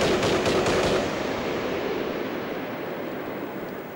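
Rapid gunfire in a wartime setting, a burst of loud, closely spaced shots in the first second fading into a long, rumbling decay with a broad noisy wash.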